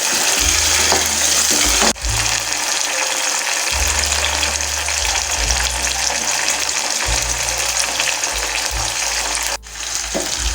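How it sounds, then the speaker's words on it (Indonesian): Shallots, bird's eye chilies, tomato and candlenuts fry in hot oil for sambal, giving a loud, continuous close-up sizzle with occasional stirring and low pan rumbles throughout. "Kita goreng sampai dengan layu ya Bun."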